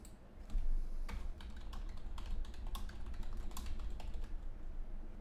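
Rapid, steady typing on a computer keyboard, close and clear, with dense irregular key clicks running throughout and no talking.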